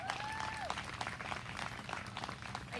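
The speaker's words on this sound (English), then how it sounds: "Let's give them all a nice round of applause before they sit down." A school moving-up ceremony for fifth graders ends with a short burst of audience applause, a dense patter of clapping from the crowd, fairly quiet and distant, with a faint whistle-like tone at the start.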